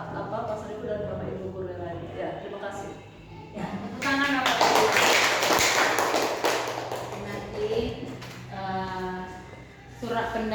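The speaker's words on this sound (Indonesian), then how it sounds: "Ya, tepuk tangan Bapak Ibu." An audience of teachers claps at an Indonesian teacher-training session, a burst of mixed applause lasting several seconds, with talk before and after it.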